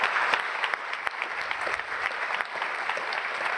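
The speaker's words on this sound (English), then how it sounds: "Please welcome with a warm applause, Dr. Severin Schwan, Roche CEO for 13 years" Warm applause from an award-ceremony audience welcoming the Roche CEO to the stage, dense steady clapping with a few sharper individual claps, sustained throughout without speech.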